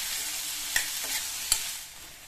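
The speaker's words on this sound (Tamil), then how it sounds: "இதை இதில் சேர்த்துட்டு நல்லா ஒரு 2 நிமிஷத்துக்கு ஹை ஃப்ளேமில் வச்சு வதக்கிக்கோங்க." Capsicum curry ingredients sautéing over a high flame, a steady close sizzle of frying with a couple of sharp stirring clinks of a spoon against the pan.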